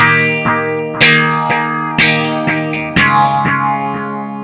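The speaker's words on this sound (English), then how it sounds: "as the delays repeat, they actually get worse and worse" Guitar chords through a Nux Mighty Air amp's analog delay struck about once a second, each followed by softer delayed repeats that grow murkier as they fade, loud and close with no talking.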